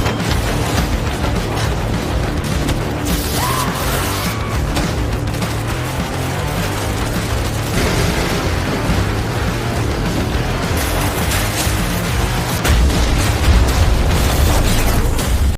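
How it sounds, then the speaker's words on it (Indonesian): A factory blows up in a film scene: loud, sustained roaring blast and rumbling debris that rolls on for many seconds, swelling again near the end, with no talking over it. "dan pabrik itu meledak"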